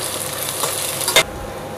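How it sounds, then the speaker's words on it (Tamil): Onions with salt sauté in a pan, giving a close, steady sizzle and one short scrape of stirring near the end. "வெங்காயம் வதங்கிறதுக்கு கொஞ்சோண்டு நம்ம உப்பு சேர்த்துக்கலாம் வெங்காயம் கொஞ்சம் வதங்கட்டும்"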